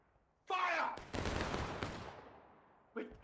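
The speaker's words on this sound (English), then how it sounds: "Nice little volley there by that 2-core element" A musket volley rings out in War of Rights, a Civil War game event at Bolivar Heights, as one loud broad crack that rolls into a long decaying rumble, preceded by a shouted voice and followed by more faint shouting.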